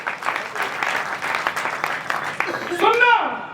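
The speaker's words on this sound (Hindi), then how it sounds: "तालियां कमजोर है आप किसके लिए?" An audience at a Hindi poetry recital breaks into applause that continues steadily for a few seconds, while a voice speaks over the clapping.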